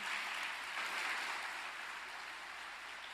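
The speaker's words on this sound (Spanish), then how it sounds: "Dele un fuerte aplauso al Señor." A church congregation claps continuously, a dense steady patter of many hands that stays fairly even in loudness, with no talking over it.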